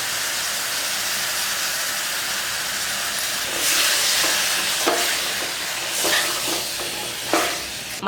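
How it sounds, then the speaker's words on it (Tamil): Mutton sizzling and frying in a pepper masala, a steady close hiss with bursts of stirring and scraping that swell the sizzle several times. "இப்போ 2 நிமிஷம் நல்லா கிளறி விட்டாச்சு"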